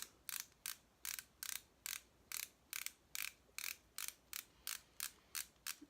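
A Revlon concealer pen with a sponge applicator is clicked about fifteen times in a quick, even rhythm, each sharp plastic click close and distinct against a quiet background.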